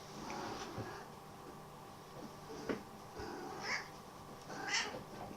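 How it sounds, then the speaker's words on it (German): A cat meows a few times, short calls rising above a murmuring indoor room tone with background game music and sounds. "Katze."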